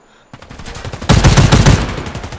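Imbel IA2 assault rifle fire in the Warface video game comes in rapid automatic bursts, first a lighter volley and then a louder, sustained stream of close shots.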